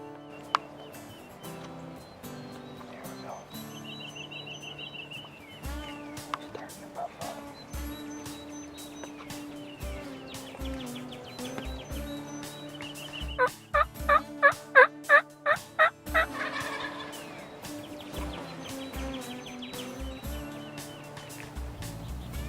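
Three wild turkey toms gobble in the distance around a hunting blind, scattered calls over about twenty seconds, with a louder burst of rapid gobbles in the middle.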